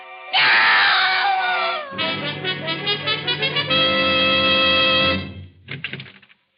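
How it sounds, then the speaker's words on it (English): Woman screaming in a 1942 radio drama, a long loud shrill scream that wavers and breaks into pulsing, sobbing cries before trailing off into gasps. "I heard a scream."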